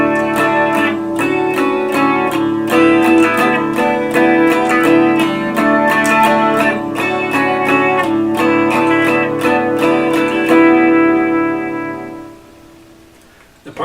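An electric guitar on the bridge pickup strums a steady rhythmic pattern of bright, thin chords with repeated picked attacks, then rings out and fades near the end.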